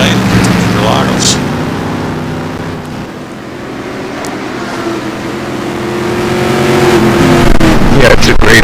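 GT1 race cars in a racing game at the Interlagos track, engines droning steadily and rising toward the end, heard under continuous commentary.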